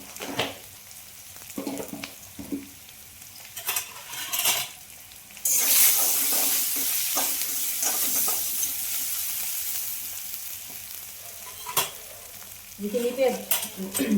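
Oil sizzles loudly in a pan while fish curry is being cooked at home, with a steady hiss that swells midway, interrupted by scattered clinks and scraping of a utensil against the pan.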